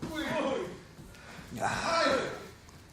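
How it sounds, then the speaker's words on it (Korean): Heavy, labored breaths from a tired MMA fighter sound close by, two long exhalations with a pause between, ragged and effortful. "많이 지쳐서 숨소리가 지금 여기까지 납니다"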